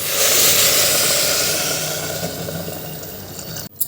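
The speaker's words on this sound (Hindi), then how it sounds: "तो ये डाल दिया हमने टमाटर और ये डाल दिया हमने इसमें पानी" Water poured into a cooking pot over tomatoes for khichdi, a steady broadband hissing splash that fades gradually and stops abruptly near the end.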